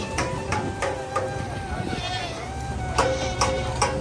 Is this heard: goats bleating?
yes